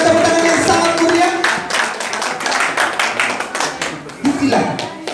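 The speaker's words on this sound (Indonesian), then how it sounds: "Dipersilakan berikan tepuk tangan yang sangat mulia." An audience at a church Bible-reading contest claps for a contestant, brisk close clapping that starts alongside a voice and settles into a rhythmic patter of hands.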